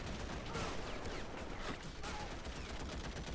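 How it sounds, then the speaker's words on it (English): Machine gun fire in the WW1 mod of Men of War: Assault Squad 2, a rapid, dense stream of gunshots and fusillades rattling continuously, moderately quiet. "Just shoot your machine gun one more time"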